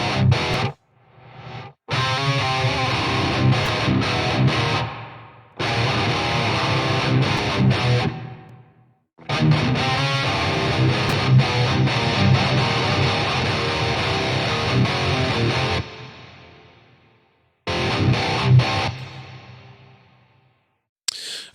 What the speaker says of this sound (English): we'll see if this reverb is working.